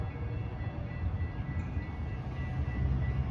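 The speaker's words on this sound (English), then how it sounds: "Milwaukee West train number 2246 to Chicago Union Station is now arriving." Metra Milwaukee West commuter train pulling into a station in Elgin, a steady low rumble of wheels and rail noise throughout, fairly close and continuous with no voices.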